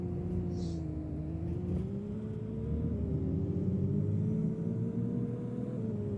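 A car driving along a highway in the Roblox game, with a steady, loud engine drone and a slowly wavering pitch that holds throughout without a break.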